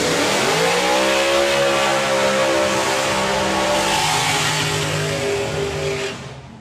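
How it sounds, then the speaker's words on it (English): Two drag racing dragsters, one supercharged and one carburetted, launch side by side at a drag racing event with a loud, sustained engine roar that rises in pitch, then fades as they pull away. "Side-by-side dragsters next."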